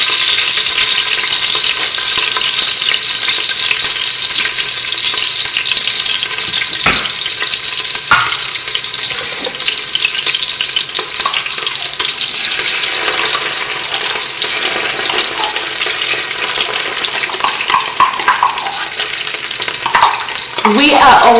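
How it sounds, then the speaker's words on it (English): Okra stew sizzles and fries loudly in a pot as tomato paste goes in and a spoon stirs, a continuous close hiss with occasional scraping clinks and wet stirring toward the end, no voices. "this is the stage where we'll be adding our tomato paste"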